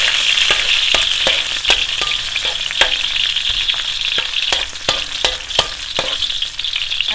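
Garlic sizzles and fries steadily in hot cooking oil for pinakbet, a close, continuous crackle punctuated by frequent sharp ticks and clicks of stirring, with no voices.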